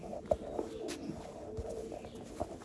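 Sialkoti Jonsray pearl pigeons give a few brief, quiet coos and soft calls nearby over low background hum.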